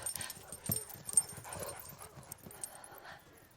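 Young dogs from a recent litter whimper and yip softly, with faint, scattered cries that come and go.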